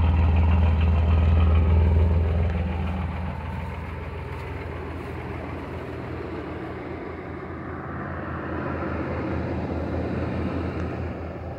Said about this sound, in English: Exhaust has a teeny rumble.